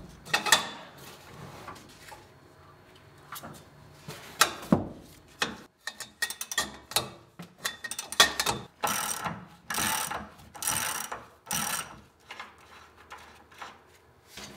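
A cheater bar works loose a tightly torqued front leaf spring mount on a 1980-1996 Ford Bronco, giving irregular metallic clanks, ratcheting clicks and scraping bursts, close and fairly quiet, with pauses between efforts.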